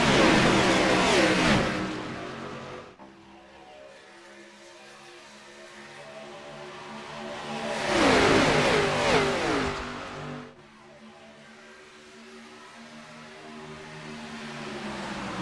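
Race car engines roar past at Daytona in two big swells of revving, each rising and then cutting back, with a continuous engine drone beneath between passes.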